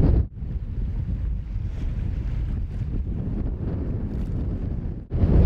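A sailboat underway under engine near Palmerston Atoll, with a steady broadband rumble of motor, wind and water lasting several seconds, loud and continuous, with a brief dip near the start and another near the end.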